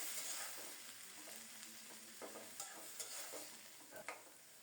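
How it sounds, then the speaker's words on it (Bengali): Prawns frying with onion in a pan, a quiet steady sizzle with occasional soft scrapes and taps of stirring. "পেঁয়াজের সাথে চিংড়ি মাছগুলি ভালো করে ভাজা হলে"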